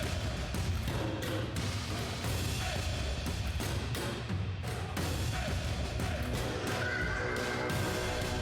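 At a show, a horse whinnies amid dense crowd noise, thumps and hooves, with music and commotion filling the space.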